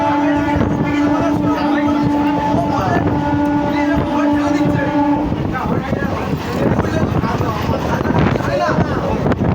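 A moving train rumbles steadily and loudly throughout, its broad continuous roar mixed with wind noise while people talk over it.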